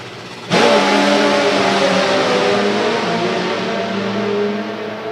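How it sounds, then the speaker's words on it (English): Top fuel drag racing motorbikes launching side by side at a drag strip, a sudden loud engine roar bursting in after a brief quiet moment and holding a sustained harsh howl, no talk over it. "So here we go then, side by side, top fuel bikes."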